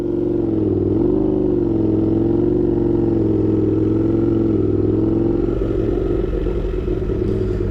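A loud Kawasaki H2 supercharged motorcycle engine drones steadily while being ridden, with a constant low roar and slight shifts in pitch that rise toward the end.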